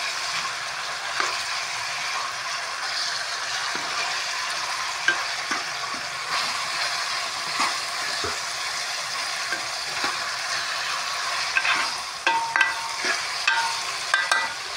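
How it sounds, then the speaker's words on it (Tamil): Onions sautéing for biryani in a pan, a steady sizzle running throughout with light stirring scrapes and clicks that grow busier toward the end, no voices. "நல்லா வெங்காயம் நல்லா வதக்க விடணும்."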